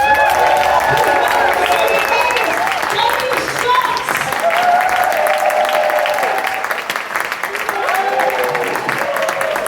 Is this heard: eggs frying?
no